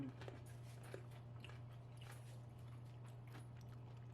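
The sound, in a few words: biting and chewing a crunchy pickle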